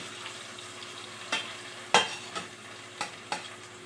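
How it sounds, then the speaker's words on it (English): Mashed potato being stirred in a pot, with a spoon knocking and scraping the sides in a few distinct strokes over a faint low sizzle, close and quiet, no voices. "is I'm going to mix my potato."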